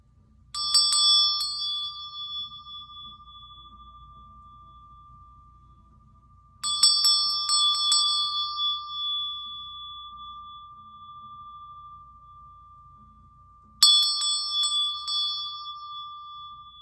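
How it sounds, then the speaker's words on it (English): Three separate strikes of the third eye Ajna bell, each a bright metallic ding with a steady ringing tone that fades slowly over several seconds, evenly spaced and heard alone over a faint low hum. "So I am going to ring the third eye Ajna bell for you."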